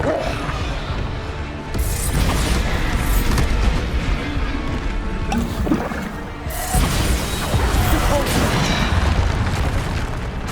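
Booming spell blasts from the Hogwarts Legacy video game, where Bombarda is the spell cast, come as loud, dense explosive bursts over a sustained rumbling roar, in two long surges with a brief dip between them.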